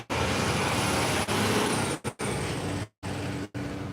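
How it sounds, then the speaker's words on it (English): Trucks drive past on a nearby road, giving a loud, steady roar of traffic noise with a few abrupt cut-outs. "Hold on, let these trucks go by."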